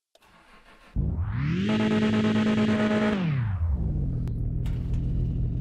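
BMW engine in the Mon Bazou driving game cranks and fires up, revving to a loud steady drone before settling back to a rough idle, alone with no talk.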